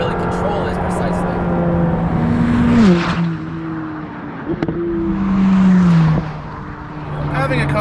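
Loud engine noise fills the McLaren 620R cabin, with droning revs that rise and fall through gear changes and a steady whir beneath, as people talk over it.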